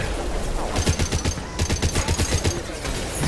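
Rapid automatic fire from an automated light weapon in Mass Effect 2, a steady stream of close, punchy shots in quick rhythm lasting about two and a half seconds, with no talk over it.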